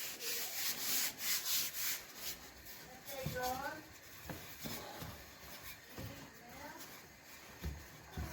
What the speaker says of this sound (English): I want to roll it out to maybe, I don't know, half an inch thick.